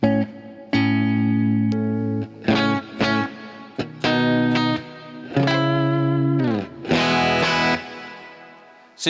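Electric guitar through a hall reverb set for long decay, playing sustained chords and single notes in phrases, each ringing out with a lingering tail between strums.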